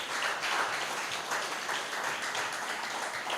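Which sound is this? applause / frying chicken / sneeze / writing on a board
applause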